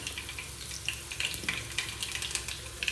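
Garlic spits and crackles in hot oil with mustard seeds, a close sizzle broken by quick irregular pops and sharp crackles over a short stretch.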